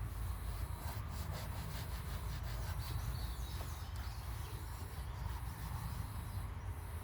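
A hand rubs and wipes down the seat upholstery inside an old vehicle, making a continuous close scrubbing and rubbing noise that stays steady throughout with no talking.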